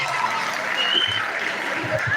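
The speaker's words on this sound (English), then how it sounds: "A round of applause for them again." Audience applause for students of a Human Kinetics and Health Education department at a career program, a dense steady patter of clapping filling the whole moment with a few brief voices underneath.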